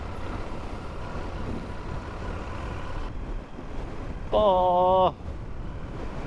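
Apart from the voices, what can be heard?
strong wind blowing on the coast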